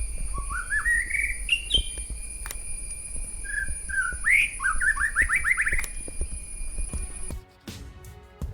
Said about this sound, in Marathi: सकाळच्या या थंड आणि शांत वातावरणात पक्ष्यांचा हा मधुर आवाज ऐका.